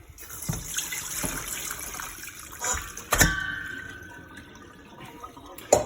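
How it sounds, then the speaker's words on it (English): Water runs and splashes as sauerkraut cabbage for an Alsatian choucroute is strained and rinsed at a sink in Strasbourg, close and uneven, with sharp clattering knocks breaking through. "I will be straining my cabbage here."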